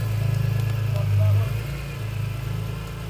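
A BMW E46 M3 engine, just fitted with a new alternator, idles with a steady low rumble that swells briefly near the start, then settles into an even, close idle.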